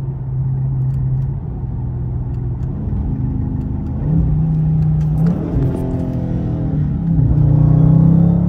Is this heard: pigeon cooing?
no